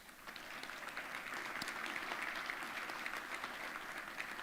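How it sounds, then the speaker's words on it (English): An audience gives candidates at a Republican primary forum a round of applause, a steady wash of clapping throughout, moderately distant and fairly quiet. "Please join me in giving our candidates one more round of applause."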